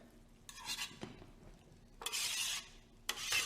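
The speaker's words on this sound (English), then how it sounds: "So I will add the bacalao here in the pan." Salted cod (bacalao) goes into a pan of cooked-down onion and garlic, giving short bursts of sizzling and scraping that rise and fall between quieter moments.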